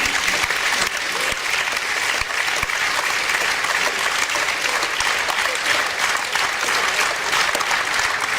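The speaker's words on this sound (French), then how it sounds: "Donc, on vous applaudit." Theatre audience applauding steadily and loudly throughout, a dense sustained wash of many hands clapping together with no break in the sound.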